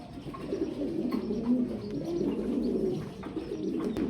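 Fancy pigeons cooing: soft, repeated low coos overlap in a continuous murmur, with a few faint chirps on top, fairly close and with no voices.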